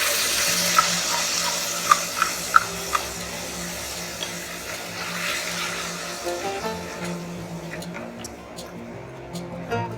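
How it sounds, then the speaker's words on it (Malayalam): Tomato puree is poured into a pan of cooked ginger and garlic while making navratan korma, giving a steady wet hiss and sizzle with a few sharp clinks near the start, close and moderately loud. "ഇനി ഇതിലേക്ക് ടൊമാറ്റോ പ്യൂരി ഒഴിക്കാം."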